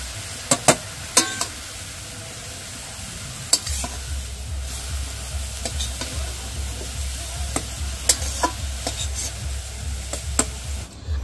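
Carrots stirred briefly in ghee in a pan for carrot halwa, giving a soft steady sizzle with scattered spoon scrapes and clicks, close and fairly quiet, no talking.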